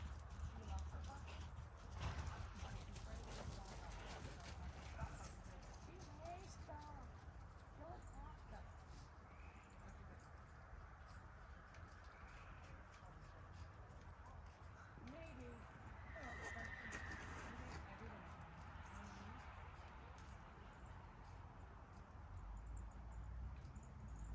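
Horse cantering in a riding arena during a lesson, steady rhythmic hoofbeats running throughout at moderate distance, with a trainer's voice talking over them and a brief whinny-like sound.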